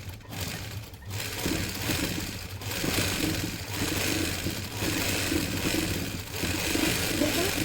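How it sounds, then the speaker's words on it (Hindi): A sewing machine stitches a straight seam of salwar fabric, its steady motor whir running continuously close by with slight swells in speed, no voices over it. "पहले ऊपर की तरफ एक सिलाई लगानी होगी इस तरह से।"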